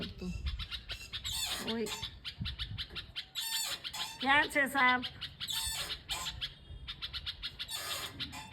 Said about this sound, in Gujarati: આ બુલબુલ છે ને એ કંઈક જોઈ ગયું છે ગાઈસ 1 કલાકથી બોલવાનું બંધ નથી કરતું